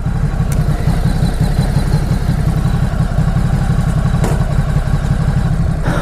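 A Ducati Supersport S motorcycle engine runs with a steady low, throbbing idle, close and continuous with no talk over it.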